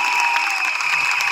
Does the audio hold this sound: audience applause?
yes